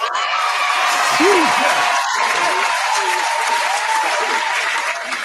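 An audience applauds steadily and loudly throughout on a mix show, with a voice or two briefly audible over the dense clapping.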